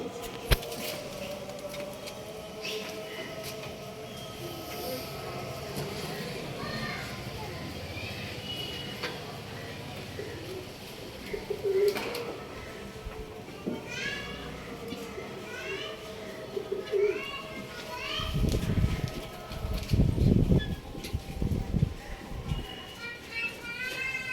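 Pigeons offered for sale coo softly in the background while someone talks over them, with a few brief bird calls and rustling or shuffling noises scattered throughout.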